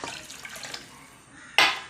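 A glass of water tipped into star fruit juice, a short bright splash of pouring near the end after a quiet stretch of faint dripping and handling noise.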